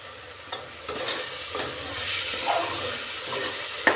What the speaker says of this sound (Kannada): ಎಲ್ಲ ಚೆನ್ನಾಗಿ ಫ್ರೈ ಆಗಲಿ, ಗರಂ ಮಸಾಲದೆಲ್ಲ ಹಸಿ ಸ್ಮೆಲ್ಲು ಹೋಗಲಿ.